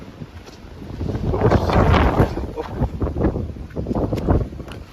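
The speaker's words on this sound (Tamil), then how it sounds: "காற்று அடிக்கிறதுனால" Gusty wind buffets a microphone on a rainy street, rough low rumbling gusts rising and falling in several surges over a few seconds.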